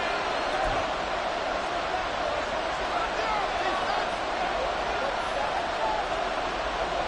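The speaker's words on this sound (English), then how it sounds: "This crowd doing all they can." Stadium crowd noise from the Madden 24 football video game, a steady, dense roar that fills the whole stretch with no clear breaks.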